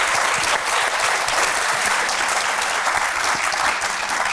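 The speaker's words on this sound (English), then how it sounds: "can I please get a huge round of applause for my panel?" An audience applauds a panel at the close of a discussion on artificial intelligence in education: dense, steady clapping from a full room that stays loud and even throughout, with no voices on top.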